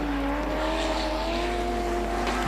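Border stock cars race flat out on a regional circuit during the final lap, their engines droning in a steady, sustained roar with a rising pitch. The sound is loud and continuous and carries no talk.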